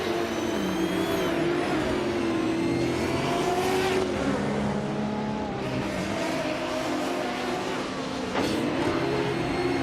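Race cars, including a 1989 Ferrari F40 Competition, launch off the grid at the Shanghai track in a racing game, a dense, loud, continuous roar of several engines rising in pitch, no speech.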